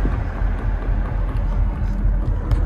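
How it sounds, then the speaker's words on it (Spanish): Car driving on a road with a large screw stuck in one tire, giving a steady low rumbling road and engine noise throughout, close and fairly loud, with no speech. "Si oyen ese ruido que está haciendo el carro."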